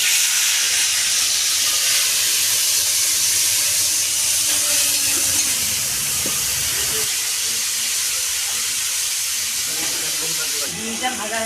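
An egg frying in hot oil gives a loud, steady, broadband sizzling hiss that holds unbroken from start to end, close to the pan.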